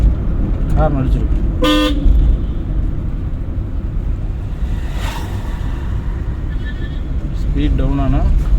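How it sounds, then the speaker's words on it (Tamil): A car horn toots in short bursts from a driving-school car on the road, sounding near and loud over steady engine and traffic noise, with someone talking throughout. "ஹார்ன் அடிச்சிருக்கு."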